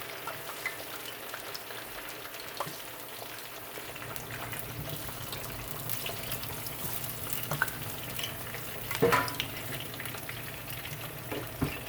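Jamaican escovitch fish frying in hot oil, close and steady, with a dense crackling sizzle, a fizzing rain-like patter and occasional sharper pops and clinks, and no talking.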